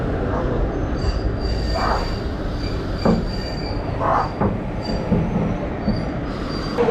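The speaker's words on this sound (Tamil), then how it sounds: "விருதாச்சலம் ஜங்ஷன்லேருந்து ட்ரெயின் வந்து புறப்படுது." A train departing Virudhachalam Junction in Tamil Nadu gives a steady loud rumble of rolling stock, with wheel squeal and occasional clanks rising over the continuous low roar.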